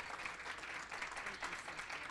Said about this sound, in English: if we could all give a round of applause to Amy Brown